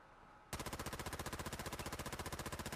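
Sustained automatic gunfire from the Fallout 4 video game, a rapid, steady stream of loud, evenly spaced shots that starts abruptly after a brief quiet moment and continues without a break.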